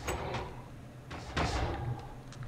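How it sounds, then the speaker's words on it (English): Doors sliding open in the Minecraft video game, a couple of loud broadband whooshing door sounds over steady low game ambience, the strongest midway through, with no talk. "Oh, the doors are open up here again."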